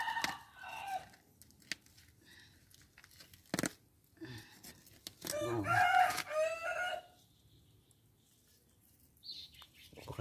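A rooster crows and chickens cluck near a home by a forest clearing where taro is being harvested, with brief bursts of movement and tearing sounds between calls.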